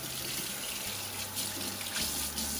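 Hands being rinsed under a running kitchen tap, a steady close splash of water into the sink lasting a few seconds with no talking.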